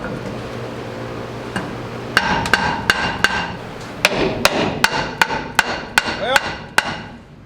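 A rusted brake drum on an old Chevrolet C20 truck is struck with a hammer to break it loose, a series of about a dozen sharp metallic blows in irregular rhythm, close and loud.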